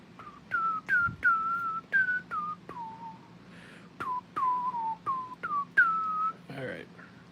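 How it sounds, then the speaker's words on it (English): A person whistles a tune of short, repeated rising notes up close while fiddling with wire for a Star Wars action figure diorama, with light clicks and handling noises underneath. "That's enough whistling"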